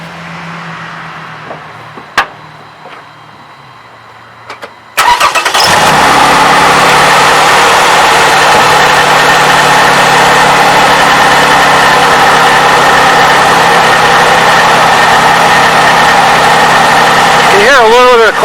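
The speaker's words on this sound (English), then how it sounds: "we're gonna start the test, which is a cold start, and see if we can pick up that clacking noise" A Toyota 3.5L engine cold-starts after a quiet few seconds, catching abruptly and settling into a loud, steady close-up idle with a faint clacking under the running engine.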